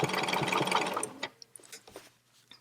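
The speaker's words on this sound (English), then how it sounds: "So I'm just going to use my ruler to help me stitch in the ditch straight." Sewing machine running a straight quilting line along a ruler, stitching steadily and close for about a second before it stops, then a few light clicks and taps follow.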